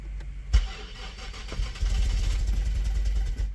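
A car engine cranks without catching after a part is fitted: a sharp click, then a low, churning, uneven rumble that runs close and steady.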